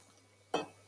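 Beaten eggs hit a hot pan with clarified butter in one quick sizzling splash that fades fast against a quiet background.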